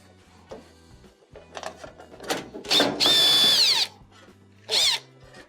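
A power screwdriver removes a ground screw from a GE dryer panel, whirring in several short bursts of rising and falling pitch with small clicks and handling noises between them.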